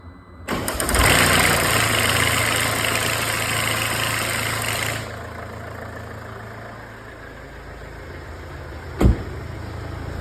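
A Mercedes 2.2 engine fires for the first time after its timing chain hydraulic tensioner is replaced. It cranks and catches loudly, roars for several seconds, then settles into a steady idle, with one sharp click near the end.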